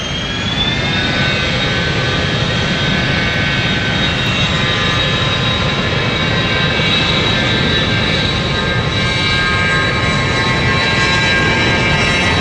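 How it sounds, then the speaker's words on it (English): A CityFlyer Embraer jet at London City Airport on a misty day gives a loud, steady engine roar with a high whine that holds unbroken throughout. "I pressed what was pinging, which was the Embraer from City Flyer."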